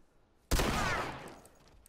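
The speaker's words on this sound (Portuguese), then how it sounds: "O cara não economiza tiro de escopeta nem pra executar a gente" A shotgun fires in The Last of Us multiplayer, one sudden heavy blast with a booming report that rolls off over about a second, loud and close, with no voices over it.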